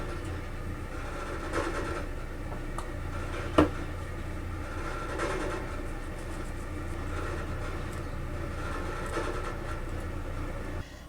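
Steady low rumbling hum of air moving through a vent, constant and moderately quiet, with a single faint click partway through.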